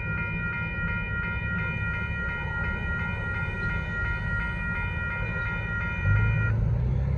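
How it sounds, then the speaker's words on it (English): A northbound Union Pacific mixed freight train rolls past on Dittmar Road in Austin, Texas, with a steady low rumble of cars and repeated sustained horn blasts, loud and close, then the rumble swells near the end. "there goes the northbound Union Pacific"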